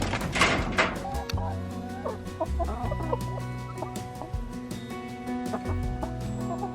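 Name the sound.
chickens clucking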